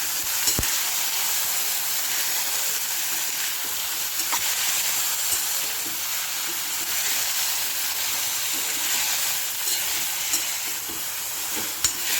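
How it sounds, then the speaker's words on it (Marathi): Chopped zucchini and onion sauté in a pan with a steady, close sizzle and occasional stirring scrapes, with no talking. "दोन मिनिटं झुकिनी चांगली परतून घेऊया"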